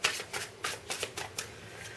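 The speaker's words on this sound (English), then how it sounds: "you can actually see them get shuffled and get put out. If some people like watching the shuffling, that's fine." Tarot cards are shuffled close up in a quick series of soft riffling bursts and slaps, about eight crisp flutters in an irregular rhythm, with no talking.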